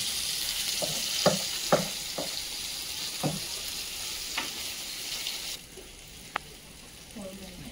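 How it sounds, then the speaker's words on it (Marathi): Saundale fish fries on a tawa coated in ginger-garlic paste and Malvani masala, giving a steady close hiss with a few sharp crackles and pops scattered over several seconds. "हे बघा मस्तपैकी सौंदाळू मी आता फ्राय करतोय."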